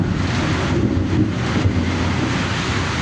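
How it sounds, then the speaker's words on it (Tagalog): Heavy rain in Manila during a typhoon, heard as a dense, steady roar of downpour with gusting wind, loud and continuous with no voices. "It's raining in Manila."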